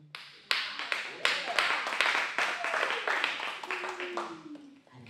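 Audience applause and clapping at a Saturday afternoon music and poetry session, a dense burst of many hands that swells quickly and continues steadily for several seconds, with a rising whistle or cheer near the end.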